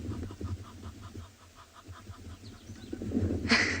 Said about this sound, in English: That's an Egyptian goose.